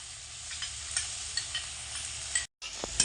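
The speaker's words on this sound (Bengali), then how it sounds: "টক দই কষা মশলার সাথে ভালো করে মিশিয়ে নেব" A spoon stirs yogurt into fried spice masala in a pan, with faint sizzling and soft scraping strokes in an irregular rhythm and a brief silent gap near the end.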